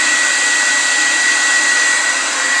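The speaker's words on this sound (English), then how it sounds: "I'll put the blow dryer directly underneath the tile and let it sit by itself" A blow dryer runs continuously at close range with a steady, loud whirring hiss, heating the adhesive under a vinyl floor tile, with no other sounds.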